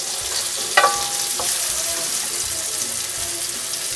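Garlic goes into a hot pan of sautéing onion for ginisang talong, with a sharp clatter of stirring up front followed by a continuous close, crackling sizzle.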